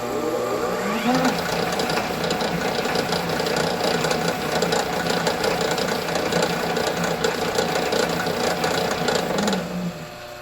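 A Sheldon lathe spins up after a speed change and runs with a steady, busy mechanical whir and rapid rhythmic clatter. It stays loud and close for about eight seconds, then winds down near the end.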